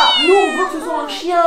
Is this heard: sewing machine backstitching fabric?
no